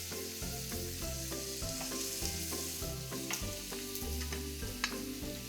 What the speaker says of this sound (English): I'm just gonna get these right into the grill pan.